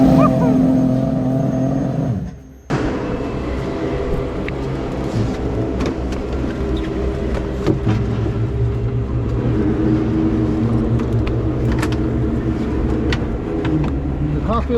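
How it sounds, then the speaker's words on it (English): Aston Martin GT1 Le Mans race car driven at speed on a circuit, its engine roaring loud and close from the cockpit, with a brief dip in the noise before it pulls hard again and holds a steady high drone. "show us first-person point of view what it's like to drive a GT1 Aston Martin"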